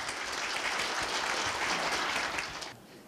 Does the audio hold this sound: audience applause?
yes